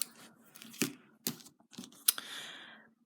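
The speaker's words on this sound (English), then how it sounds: "cut your yarn" Scissors snip through crochet yarn in a few sharp, close cuts, separated by short pauses, with light crinkly handling noise between them.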